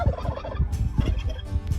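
Several turkeys on a farm gobble in rough, grumbling bursts at each other, a near and continuous chorus of throaty calls with repeated loud pulses across the whole stretch.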